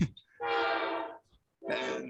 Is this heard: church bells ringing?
no